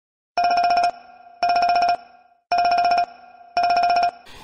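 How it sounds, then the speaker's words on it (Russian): A phone rings with an incoming call from a Xiaomi smart home hub: four loud, evenly spaced electronic ringtone bursts, close and clear with nothing else heard. "на телефон начал звонить мой хаб, который стоит в квартире"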